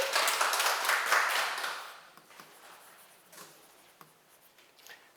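Audience applause after a talk on a teacher's teachings, loud for about two seconds then fading into scattered individual claps.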